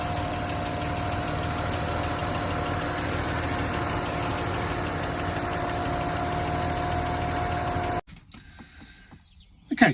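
A 1959 Alvis TD21 FHC Series 1 engine idling hot after a run, a steady close mechanical whir and hum that cuts off abruptly near the end, leaving faint rustles.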